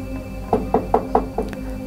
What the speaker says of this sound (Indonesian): Aku pun mulai mengetuk pintunya.